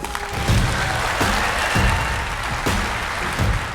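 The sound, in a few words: applause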